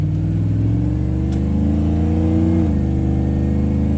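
A Chevy Suburban's engine and exhaust drone from inside the cabin during casual stop-and-go driving, a low steady rumble with rising and falling engine pitch as it accelerates, and no talking.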